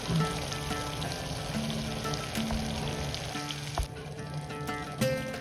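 Cashew, almond and sesame paste frying in a vegetable kurma curry, a soft, steady bubbling sizzle with faint crackles and a few light clicks, close but quiet.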